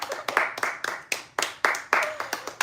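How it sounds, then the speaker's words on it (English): A small group claps at the end of a chair yoga routine for senior citizens, giving a short round of sharp, uneven hand claps in separate bursts rather than a full ovation. "round of applause"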